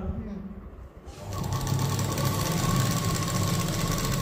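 A sewing machine fitted with a half hemmer stitches the hem of a prince cut blouse. It starts after a quiet moment, then runs as a loud, continuous, even whir under some talk.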